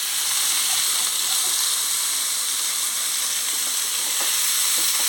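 Dried anchovies sizzle in a pan over medium flame, a dense, continuous frying hiss that stays steady and close throughout, with stirring faintly audible and no voices.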